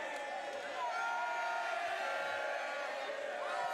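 A boxing crowd at a live fight cheers and roars in a sustained, fairly faint wash of voices, with commentary talk running over it.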